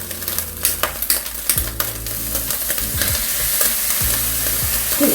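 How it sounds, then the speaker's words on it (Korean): Chili tuna and rice stir-fried in a hot pan for fried rice, with a constant sizzle under repeated scraping, clinking spatula strokes, close and fairly loud. "자, 이거를 또 이제 이렇게 같이 볶아줍니다"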